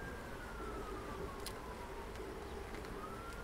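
Honeybees around an opened beehive, a faint continuous droning hum with a slowly gliding tone, steady and unbroken, no talking.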